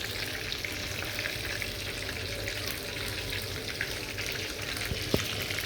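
Chicken pieces frying in hot oil for a crispy fry, a steady dense sizzle and crackle close up that holds evenly throughout, with a faint clink near the end.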